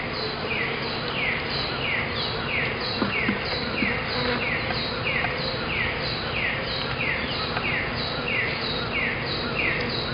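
Honeybees hum in a close, steady drone during a hive inspection, and a repeating chirp from birds nearby runs over the buzzing throughout.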